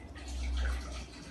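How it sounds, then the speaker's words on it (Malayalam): Plain water, about 350 ml, is poured into a steel vessel while home soap is being made, giving a short, steady, close splashing pour that swells and then eases off. "350 മില്ലി സാധാരണ വെള്ളെടുക്കുക, അത് സ്റ്റീൽ പാത്രത്തിൽ ഒഴിക്കുക."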